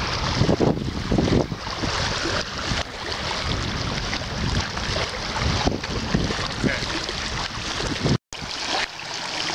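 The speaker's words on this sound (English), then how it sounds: "between the wind and the waves" Wind and waves buffet an inflatable raft on open water, with loud gusty wind roaring across the microphone over choppy splashing water and a brief dropout near the end.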